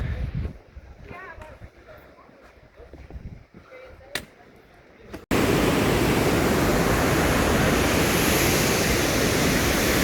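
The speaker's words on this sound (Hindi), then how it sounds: "ये है जी ओरिना वैली वाटरफॉल" The Reinbach waterfall at Riva di Tures starts roaring partway through, a loud steady rushing wash that fills the second half after a stretch of quieter outdoor sound with voices.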